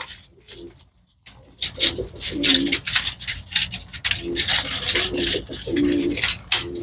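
Pigeons for sale coo repeatedly at close range, with soft rustling and shuffling around them and no talk over the calls.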